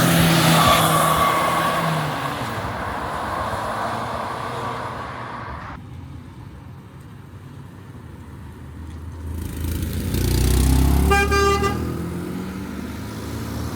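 Cars pass at a car meet, with engines and tire noise swelling and fading, and near the end a loud car horn honks in a burst of tones over a passing vehicle.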